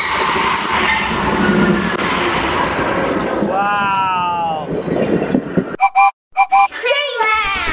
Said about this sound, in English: We're at the Amtrak train station.